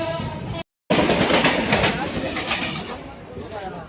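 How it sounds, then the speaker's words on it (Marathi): A Mumbai local train rolls from Diva toward Dadar, a steady loud rumble with rail clatter and rising hiss filling the carriage, broken by a brief cut near the start. "आपण दिव्यातली ट्रेन पकडलेली आहे तर डायरेक्ट आपला दौरा दादर"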